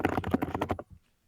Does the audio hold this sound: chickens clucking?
no